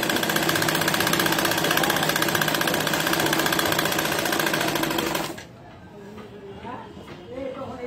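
A sewing machine stitches the neckline of a kameez, a loud, rapid, steady mechanical whirr with clattering needle rhythm that stops abruptly after about five seconds, followed by someone speaking over a quieter room.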